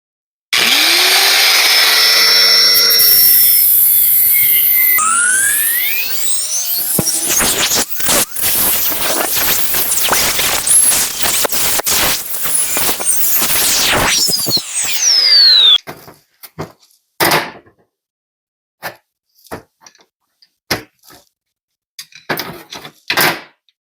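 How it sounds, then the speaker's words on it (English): An angle grinder with a cutoff wheel slices through the rivets on a BMW E30 steering knuckle, a loud, sustained high whine that rises and falls over many seconds, then breaks into short harsh bursts with silent gaps. "get a cutoff wheel on an angle grinder. It's going to make this way easier. So right now, I'm just going to cut these off"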